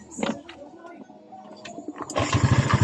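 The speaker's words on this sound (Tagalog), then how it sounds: "On na natin ang kanyang susi guys para mapandar natin ang kanyang motor" A Honda BEAT FI scooter engine with a check-engine error 52 is cranked and then catches, sputtering into a rapid, close-up idle after a few brief attempts; a voice is briefly heard.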